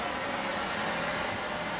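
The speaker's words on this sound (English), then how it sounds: "So I captured sound at each fall, and that sound is reverberating through the space." Recorded waterfall roar replayed through speakers in a water-themed art installation, a steady, dense wash of broadband noise filling the space evenly and without pause.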